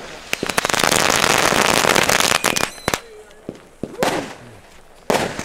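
Older Lady Knaller 400 firecrackers set off on a street on New Year's Eve burst in a dense, rapid crackling string of loud pops, then thin out into scattered separate bangs.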